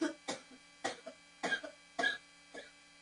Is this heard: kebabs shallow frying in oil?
no